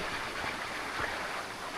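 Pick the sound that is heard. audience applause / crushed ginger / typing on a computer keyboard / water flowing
water flowing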